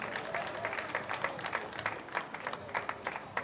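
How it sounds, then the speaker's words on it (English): Audience applause at a housing estate commissioning event in Ibeshe, Ikorodu, Lagos, a crowd clapping in a continuous patter of many hands, moderately loud and steady for several seconds, with faint voices beneath. "Let's give our House of Assembly a big round of applause."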